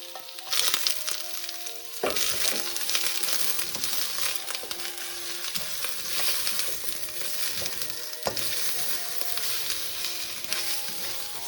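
Shrimps fry in a hot pan for a Chinese New Year dish, giving a steady, close sizzle with sharp crackles and spatter, broken by two sudden louder bursts, likely as the shrimp hit the oil or get stirred.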